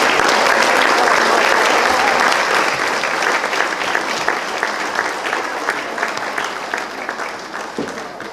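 A school hall crowd at an end-of-year ceremony claps loudly for award and book prize recipients and their mentors, a thick, continuous burst of applause that gradually thins and softens over about eight seconds.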